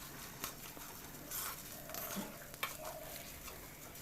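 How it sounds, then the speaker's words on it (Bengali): Mashed boiled potatoes fry in a pan with a faint, soft sizzle, broken by a few gentle stirring scrapes and light taps of a spoon, quiet and close with no voices. "আলুটা দিয়ে আবারও ভাজা ভাজা করে নেব মিনিট 2"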